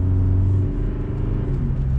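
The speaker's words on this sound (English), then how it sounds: "it does have that low down grunt, which I really like on these diesel trucks" A 2021 Chevrolet Colorado with the Duramax diesel pulling out into traffic gives a steady, low engine drone and rumble that holds close and fairly loud throughout, with no voices.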